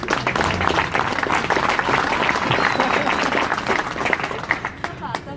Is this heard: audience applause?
yes